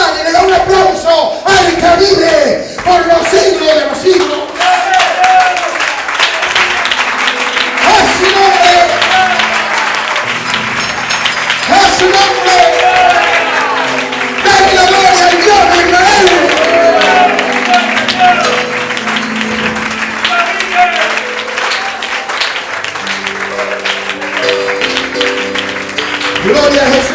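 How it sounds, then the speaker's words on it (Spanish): A church congregation applauds at length during a Spanish-language worship service, sustained clapping blending with music and voices throughout. "Póngase de pie, hermano, y le da un aplauso al que vive por los siglos de los siglos"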